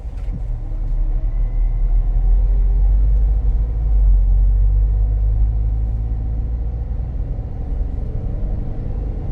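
A 2011 GMC Terrain accelerating on the road produces a loud, steady low engine rumble with broadband road noise, swelling slightly in the middle and then easing, heard from inside the cabin with no talking.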